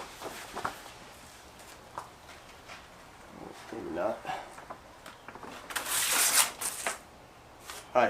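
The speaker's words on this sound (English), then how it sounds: "And then you're going to take the vinyl off the sheet here." Red tint vinyl overlay for a Hyundai Genesis Coupe is peeled off its paper backing sheet in several short crackling, rustling bursts, loudest midway and near the end, with quiet handling noises between.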